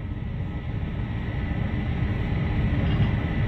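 A Class 47 diesel-electric locomotive in Train Sim World runs with a steady, loud low rumble and drone that builds slightly toward the end, with no talk over it.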